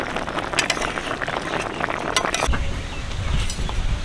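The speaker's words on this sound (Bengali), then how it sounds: "তরকারিটা ঢেলে দিচ্ছি।" Curry with green banana, potato, cumin and turmeric is poured into a pan, giving a bubbling, sloshing liquid sound with a few utensil clinks, then a lower steady simmer.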